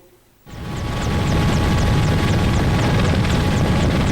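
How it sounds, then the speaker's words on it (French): Two FARDC military attack helicopters roar in over Beni after a quiet start, rotors thumping steadily and close overhead for several seconds before cutting off. "Il s'agit de deux hélicoptères de chasse des FARDC qui ont survolé le ciel de Beni."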